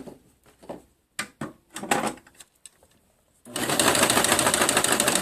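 A sewing machine stitches a sleeve into a garment: a few seconds of scattered clicks and fabric handling, then the motor starts and runs in a steady, loud, close whir of rapid stitching to the end.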